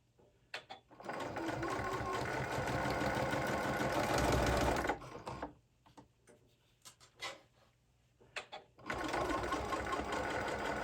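Sewing machine stitching the box corners of a fabric pouch: two sustained bursts of fast mechanical whirring, each a few seconds long, separated by a stretch of quieter clicks and handling.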